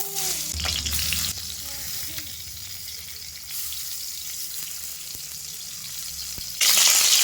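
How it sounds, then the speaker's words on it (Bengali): Shingi fish coated in salt and turmeric fries in hot mustard oil in a kadai, giving a steady sizzle with a few light clinks. A sudden, louder burst of spattering comes near the end. "লবণ হলুদ মাখিয়ে রাখা মাছ ভেজে নেব"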